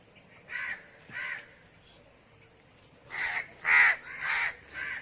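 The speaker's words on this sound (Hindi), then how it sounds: "जैसे मेरे दाएं बाएं कौवे आ गए" Several crows caw nearby in a garden in short, harsh bursts, a few spaced calls followed by a quicker cluster, over faint background insects.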